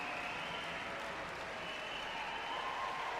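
A crowd at a Paralympic judo contest at the London 2012 Games keeps up steady, dense applause throughout, a broad wash of clapping heard from a distance.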